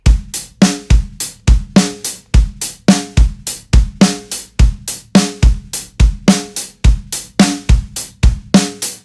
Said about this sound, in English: It's a completely linear groove, so there's only one limb playing at any one time.